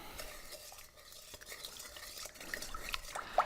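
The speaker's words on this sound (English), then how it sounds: "I'm going to add a tablespoon of sugar. And I'm going to mix it up." A spoon stirring sugar into a cup of liquid meant to feed yeast, steady gentle scraping and swirling with small clinks against the cup, close and quiet with no talking.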